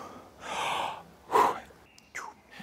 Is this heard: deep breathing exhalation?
yes